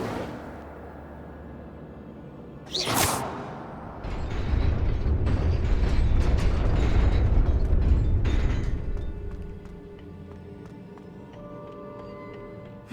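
An Incendio fire spell cast in Hogwarts Legacy: a sharp whooshing crack, then a loud rumbling, crackling burst of flame lasting several seconds before fading to quiet mechanical clicks.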